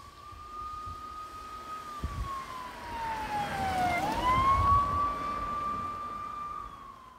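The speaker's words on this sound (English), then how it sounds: "As the siren passes the object, the wavelengths are at their shortest." A police siren wails steadily, its pitch dropping as the vehicle passes close by, then rising back as it continues, over road noise.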